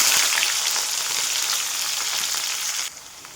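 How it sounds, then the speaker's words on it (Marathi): Oil with mustard seeds and cumin sizzles hard for tempering, a bright steady crackling hiss close up that drops sharply near the end. "तेल, मोहरी, जिरं छानपैकी लाल झालेले आहे."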